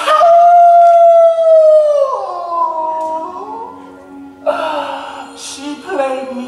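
A human voice imitates a dog or wolf, letting out a long, loud sustained howl that slides downward in pitch, followed by shorter wavering yelps and cries, close and alone.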